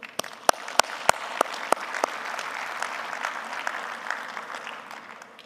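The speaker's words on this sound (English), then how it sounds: "I would like to take this opportunity to thank them with a big round of applause" Applause from a session audience at the COP28 climate conference, opening with a few sharp individual claps before settling into a steady moderate round of clapping.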